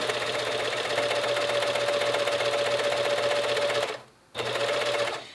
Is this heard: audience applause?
no